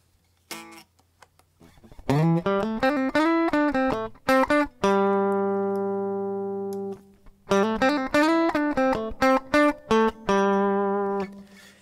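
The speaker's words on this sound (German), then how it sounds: "Ich habe zum Beispiel hier auch die Möglichkeit, einen Hall drauf zu geben." Electric guitar notes and short phrases with a reverb effect heard through hardware monitoring, ringing out with a lingering wash and a long sustained chord in the middle, played alone and fairly loud.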